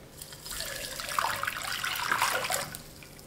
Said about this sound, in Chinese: 加入600毫升的温水